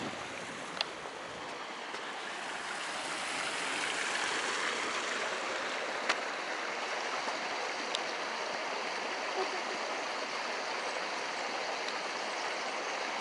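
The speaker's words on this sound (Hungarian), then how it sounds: "Ősszel nem volt a patakban ennyi víz." A small stream fed by high water flows through a forested valley in the Eastern Mecsek hills, a soft, steady, fairly faint babble with no talking.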